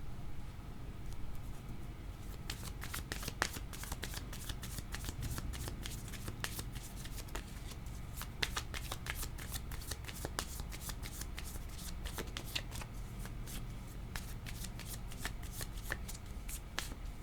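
Tarot cards shuffled repeatedly during a card reading, a continuous quiet riffle of crisp overlapping card flicks and snaps, close and fairly faint, running throughout with no voices.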